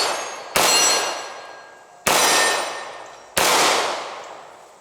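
A Sig Sauer modular handgun fitted with a Wilson Combat grip fires three loud, sharp shots about a second and a half apart, each with a long ringing decay, with no talking.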